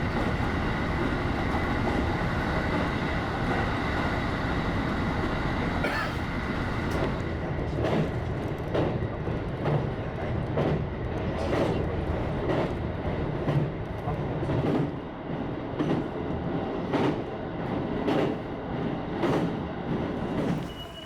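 A Japanese passenger train bound for Hamamatsu rolls steadily along the rails with a continuous rumble, and rhythmic wheel clacks recur evenly through the second half.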